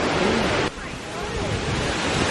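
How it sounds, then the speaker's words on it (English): A waterfall pours down hard on an Arizona–Utah canyon road trip, making a loud, continuous roar close by, with wind buffeting the microphone. "we made it to the waterfall"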